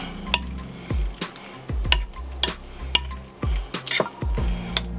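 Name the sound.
mixing macaroni ham salad in a bowl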